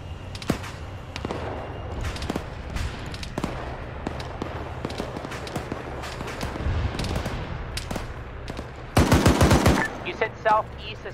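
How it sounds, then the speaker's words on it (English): A .50 cal machine gun fires in the Arma military game, with scattered gunshots and distant fire building to a loud sustained burst near the end. "I'm hoping that 50 cal starts engaging vehicles"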